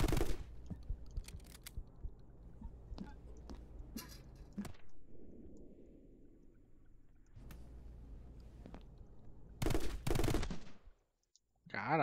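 Sniper shots ring out in the action video game My Friend Pedro, with several sharp, isolated cracks spread across the span, a loud cluster near the end, and quieter game ambience between them.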